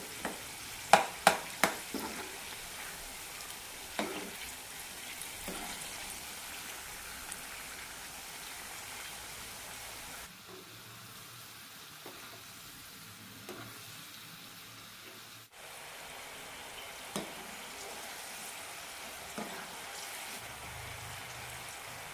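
Chickpeas fry in oil for a crispy masala snack, with a continuous sizzle and several sharp scraping stir strokes near the start, then quieter intermittent scrapes and a dip in the frying noise partway through.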